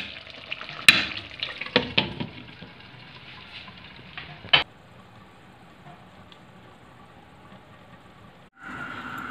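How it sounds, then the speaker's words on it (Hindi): A spoon stirs potato and spinach in a pan with several scraping clatters early on, a sharper knock as the mix settles, then a quiet stretch before a low sizzle resumes. "इसको मिक्स कर देते हैं और बस अब इसको फिर से ढक देते हैं"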